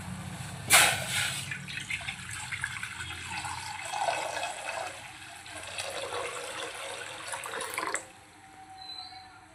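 Water gushes and splashes into a large cooking pot, loud and close, beginning with a sharp splash and running steadily for several seconds before cutting off into quiet.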